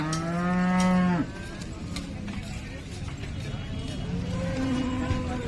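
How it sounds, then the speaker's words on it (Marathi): A cow at the Sangola cattle market gives one long, loud moo close by, followed by quieter background noise and a fainter, second low call near the end. "ही टॉप क्वालिटीची गाय आपण ही कव्हर करणार आहोत"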